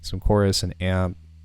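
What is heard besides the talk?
No everyday noises stand out.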